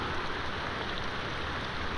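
Rain falling steadily outdoors, an even hiss of drops with no breaks, moderately loud and heard alone.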